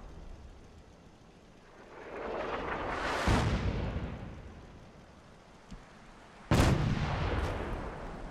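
Two heavy booming blasts of gunfire from a character shooting in Fallout 4, each with a long rumbling tail that swells and fades. The second blast is sharper and louder, and no one talks over them.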